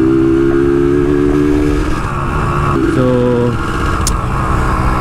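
Yamaha RXZ motorcycle being ridden, its engine droning steadily with brief pitch rises as the throttle opens, close and fairly loud under wind noise; a voice says a word.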